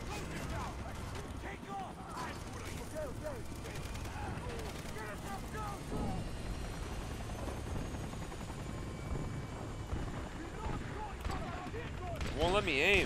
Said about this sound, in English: I'm at the chopper, let me in.